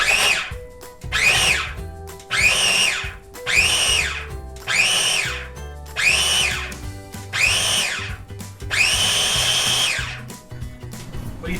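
Food processor pulsing butter, shortening and flour for pumpkin pasty dough, about eight loud whirring bursts, each rising and falling in pitch, with short pauses between them and no talking.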